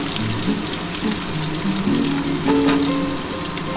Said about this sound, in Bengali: একটু পেঁয়াজের পরিমাণ বেশি দিলাম কারণ এটা আগে কষা কষা করবো তো তাই